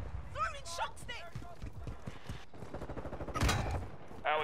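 Rapid rattling gunfire fills a Call of Duty: Modern Warfare II match, with automatic bursts and louder close shots mixed with game effects while voices speak over the action.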